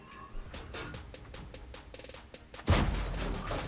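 A Churchill Gun Carrier tank destroyer's gun fires in World of Tanks, a single loud, booming shot near the end after a stretch of softer battle clatter and distant gunfire.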